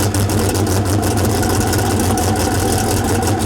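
A Hennessey Venom F5 Roadster engine runs at a steady, loud, dense rumble throughout, with no clear single start burst, just a constant heavy mechanical roar.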